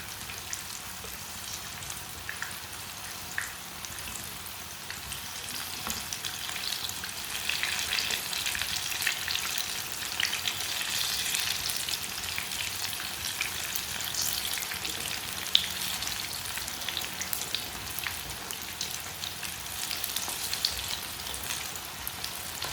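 Black chickpea pakoras fry in hot oil, giving a continuous, even sizzle with a crackling, rain-like texture that holds steady throughout without any voices.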